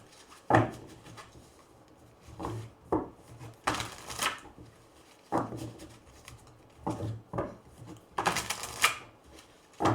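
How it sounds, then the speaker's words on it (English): Tarot cards being shuffled nearby in quick riffling bursts, separated by short pauses and soft handling taps, with no talking. "one last shuffle"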